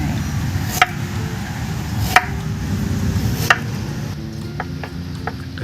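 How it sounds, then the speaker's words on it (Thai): A knife chops ginger on a board in a home kitchen, the blade striking in a few separate, sharp knocks spaced over a second apart, then quicker lighter taps near the end, over a low background hum. "หั่นให้มันเป็นแว่นๆก่อนแล้วเอามาซอยแบบนี้"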